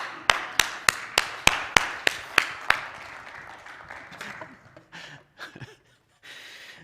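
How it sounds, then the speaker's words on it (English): Applause for Jeff from a small church audience comes as about ten slow, evenly spaced sharp claps, close and distinct, that then thin out into a few scattered, softer sounds and a brief lull. "I want you to give Jeff a big round of applause"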